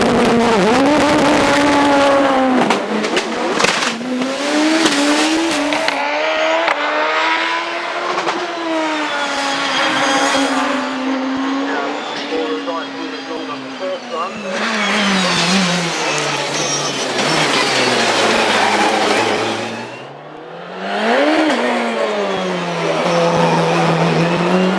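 A hillclimb saloon race car with a 2.2-litre twin-turbo Cosworth BDT engine and hydraulic four-wheel drive screams up a course, loud and close, with sustained high revs, sharp gear-change drops and a deep dip before it roars away again.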